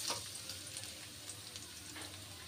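Chopped onion dropped into hot oil with cinnamon, cloves and pepper for a beef curry, a steady bright sizzle filling the pan, close and continuous with no talking.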